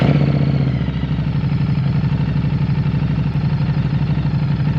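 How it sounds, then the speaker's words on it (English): A motorcycle engine idles loud and close with a steady, fast, even chugging throb that holds without change for the whole stretch, no voices over it. "So basically that's how you start a motorcycle."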